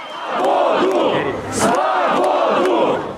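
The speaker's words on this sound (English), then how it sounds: "it didn't stop the crowd gathering to call for the release of the man leading Russia's most prominent opposition movement" Protest crowd of Navalny supporters in Vladivostok shouting in loud rhythmic unison, chanting in repeated waves at sub-zero temperatures.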